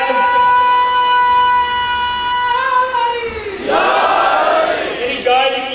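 A crowd at a majlis chants a slogan in unison, a long sustained call of many voices that wavers and swells, then breaks into a louder burst of overlapping shouts.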